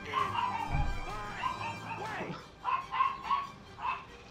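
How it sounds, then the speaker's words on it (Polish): A dog barks and yelps in the background of a Mafia: The City of Lost Heaven game scene, short bursts spread across the clip over low rumble and faint voices. "Głosy w tle, szczekającego psa."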